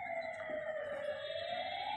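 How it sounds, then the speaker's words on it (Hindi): A fire brigade truck's siren wails steadily, rising slightly in pitch, as it approaches a fire spreading through slum huts in Tughlakabad village; a fairly faint, continuous tone with background noise and no talk. "अब गाड़ियाँ आ रही हैं, फायर ब्रिगेड की गाड़ी आ रही है अभी"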